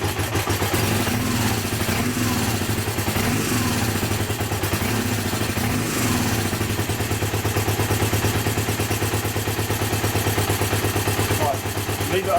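Honda CB250N Super motorcycle idling after a cold start with no choke, warming up: a steady, close mid-pitched engine putter with a fast, even exhaust pulse and light mechanical clatter throughout.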